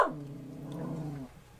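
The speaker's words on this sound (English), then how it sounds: "Jesse, don't bark at me, mister." A dog named Jesse gives a short low growl that rises into a brief bark-like whine, close by and alone, lasting about a second before fading.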